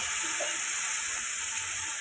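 Onion paste and spices fry in hot oil with a steady, close sizzle and faint bubbling, continuous and alone for about two seconds.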